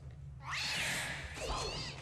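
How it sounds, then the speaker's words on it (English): A cat meows once in a film scene, a drawn-out, wavering cry lasting over a second, heard clearly over a low steady background hum. "Cat. Nearly gave me a heart attack."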